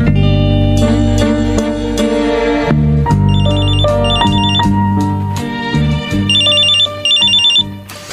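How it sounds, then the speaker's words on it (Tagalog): A mobile phone ringtone plays loud and alone: a bright electronic melody with repeating chiming notes and a steady underlying tone, continuing for about eight seconds without pause. "Sino kaya itong tumatawag? Number lang ang nakaregister sa cellphone."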